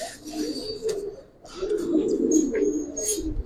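Silver Giribaz pigeons coo close by in soft, rolling low bursts, with a pause in the middle and a few faint chirps, without any talking.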